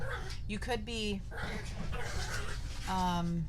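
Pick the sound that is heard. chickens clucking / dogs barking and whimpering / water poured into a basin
dogs barking and whimpering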